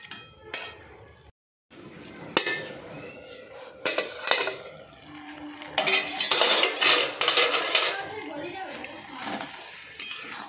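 A lid is set over a cooking pot of fig and small-fish curry, with metallic clanks, scrapes and clinks of pots and utensils coming in irregular bursts, close and fairly loud, with a cat meowing faintly.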